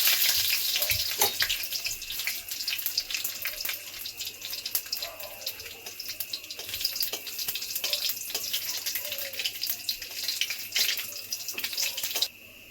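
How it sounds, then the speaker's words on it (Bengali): Dry red chillies and bay leaves crackle and spit in hot mustard oil in a kadai, a dense steady sizzle with scattered sharp pops throughout, ending abruptly. "সর্ষের তেল দিয়ে দিয়েছি, ফোড়নে দেবো শুকনো লঙ্কা, তেজপাতা,"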